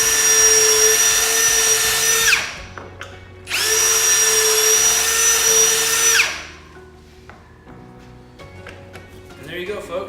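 A power drill whirs loudly twice while boring pocket screw holes in wood, with a pause in between, then spins down; a voice talks quietly afterward.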